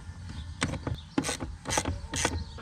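A ratchet wrench clicks in short repeated bursts, loosening the seat bolts inside a Ford Sierra Sapphire 4x4 Turbo, close and fairly loud with brief pauses between strokes.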